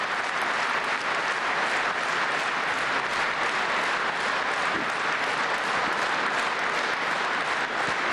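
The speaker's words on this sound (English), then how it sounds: "So that was President Putin receiving strong applause there from the two houses at the Russian parliament" Strong, sustained applause from the two houses of the Russian parliament fills a large chamber, a dense, steady wash of many hands clapping at even loudness throughout with no voices.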